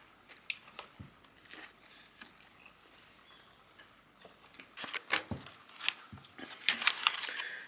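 Someone bites and chews a KFC chicken burger with crunchy lettuce in Japan, a series of close, quiet crunches and mouth sounds that grow louder and denser toward the end, with no talking.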